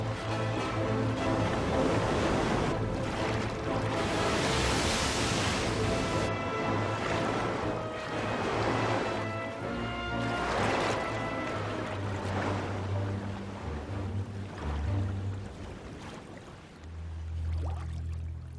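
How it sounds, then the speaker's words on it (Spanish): Wind and heavy waves battering a Spanish caravel as it breaks apart at sea, a continuous loud roaring wash of surging water with low rumbling, broadband and turbulent throughout. "Agitada por el viento y las olas, la carabela española se rompe en pedazos."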